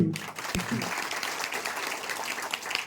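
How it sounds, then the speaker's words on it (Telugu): A crowd claps steadily at an inauguration ceremony, a dense patter of many hands, fairly distant and even in level. "మీ అందరి చప్పట్లతో"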